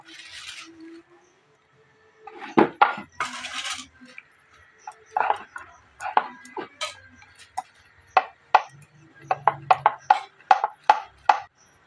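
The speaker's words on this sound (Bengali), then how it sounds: "এবার আমি এখানে একটা চাটু বেলা নিয়ে নিয়েছি। আমি একটা গোল রুটির আকার তৈরি করে নেব।" A rolling pin presses and rolls dough into a round roti on a board, making a run of sharp close taps and knocks in an irregular rhythm, alone and with quiet gaps between bursts.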